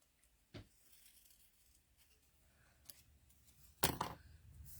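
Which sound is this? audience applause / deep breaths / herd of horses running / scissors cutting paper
scissors cutting paper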